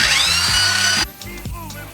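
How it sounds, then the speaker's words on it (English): A power drill whirring loudly as it mixes ceramic glaze in a bucket, then cutting off to quieter scraping and handling sounds. "I'm going up and down with the drill while I'm having it go"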